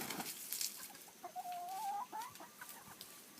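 Farm chickens in a backyard flock, currently molting and losing feathers, cluck in a low, scratchy chatter with one drawn-out rising call in the middle. Close and moderately loud, with no talking.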